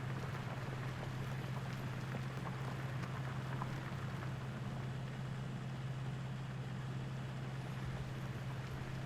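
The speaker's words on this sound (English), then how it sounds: "And this bloody rain is still coming down." Steady rain in Farming Simulator 19, a constant dense hiss of falling drops over an unbroken low engine hum, even in level throughout with no talking.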